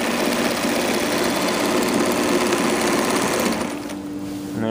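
Bond PBL-1 carpet binder machine stitching binding onto carpet, a loud steady mechanical whir of rapid stitching that runs continuously, then eases off slightly near the end as the machine slows.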